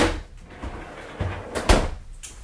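Several soft knocks and thuds of kitchen drawers opening and closing in a 2020 Forest River Sandpiper 38FKOK RV, with one sharper bang near the end; no talking.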